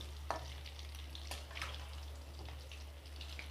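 Eggs fry in oil in a pan for egg masala, giving a quiet, steady sizzle with a few soft crackles over a low background hum.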